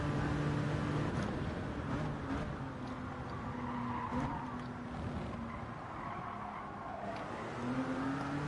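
Gr.1 Le Mans race car in Gran Turismo 7 weaving to warm its tyres, a steady engine drone with shifting pitch and faint tyre scrub running throughout, no talk.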